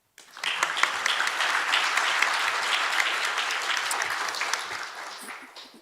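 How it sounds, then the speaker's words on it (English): A forum audience at the Seoul Olympic Legacy Forum breaks into loud, dense applause that starts abruptly, holds steady for several seconds and slowly thins toward the end. "So big round of applause,"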